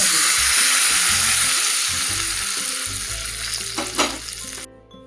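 A hot tempering of spices for a Maharashtrian dal chatka sizzles loudly and steadily in a pan, fading gradually before a brief clatter and sudden stop, without voices.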